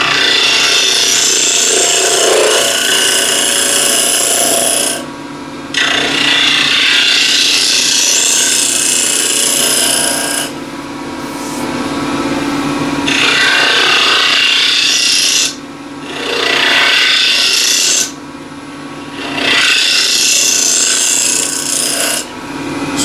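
A wood lathe spins at 1800 RPM while a refiner smooths the bottom of the turned piece, giving a steady, loud close-up rasping hiss in long passes, broken by brief pauses where the tool lifts away.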